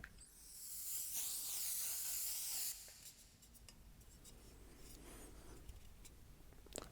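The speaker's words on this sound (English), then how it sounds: "just spray a little bit on you" Body deodorant sprayed from a can in a quiet ASMR setting gives one close, steady hissing burst of about two seconds, followed by soft rustling and faint handling sounds, with no talk.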